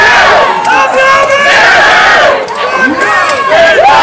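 A dragon boat team at the Schierstein harbour festival regatta shouts loudly in unison, a close, continuous chorus of voices with rising and falling yells and cries over several seconds.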